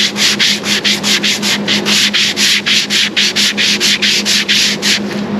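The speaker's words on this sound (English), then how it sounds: "we had sanded these long surfaces. Using a block is a good way to get a good straight" Hand sanding of fiberglass with a sanding block, a close, loud rasping scrape repeated in quick even back-and-forth strokes, roughly four per second, running steadily throughout with no talking.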